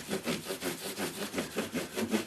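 Guitar frets on an Electra hollow-body, Gibson ES-335-style guitar being hand-sanded with 6000 grit micro mesh, giving close, quick back-and-forth rubbing strokes in a steady rhythm of roughly four per second.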